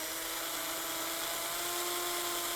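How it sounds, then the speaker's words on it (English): A power drill bores holes in a truck to mount a Putco Luminix light bar, a steady high-pitched whine that holds constant and close for the whole stretch, with no talking. "So let's start drilling these holes so we can get this light bar mounted up on this truck."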